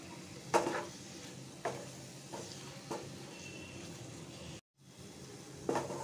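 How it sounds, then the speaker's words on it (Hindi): Spoon stirring spices and turmeric through frying onions in a pan for egg bhurji, with a steady low sizzle broken by a few sharp scraping strokes. "मसालों को अच्छे से मिला देंगे।"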